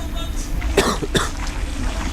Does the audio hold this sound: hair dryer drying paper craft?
no